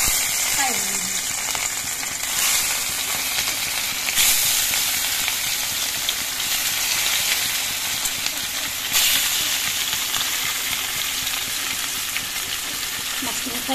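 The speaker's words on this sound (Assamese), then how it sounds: "এতিয়া মাছখিনি ইয়াত ফ্ৰাই হ'ব।" Pieces of fish frying in hot oil in a wok, a loud, continuous sizzling hiss held close for the whole stretch, with slight shifts in intensity and occasional clinks.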